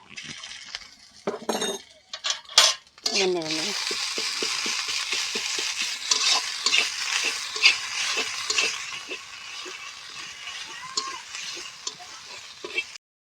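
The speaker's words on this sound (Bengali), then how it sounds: "আদা রসুন ভাজা হয়ে গেছে" Ginger-garlic paste frying with onions for a jackfruit and prawn curry, beginning with a few metallic clinks and scrapes of a utensil, then a close continuous sizzle with rhythmic stirring taps.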